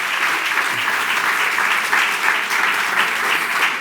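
Audience applause at an addiction conference, a steady, dense clapping from a large crowd that continues evenly throughout without a break.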